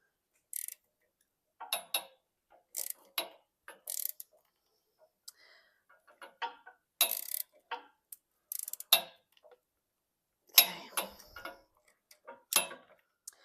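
A nut being tightened on the coil spring top mount of a Volvo V50 in a workshop, heard as short bursts of rapid ratchet clicks separated by pauses.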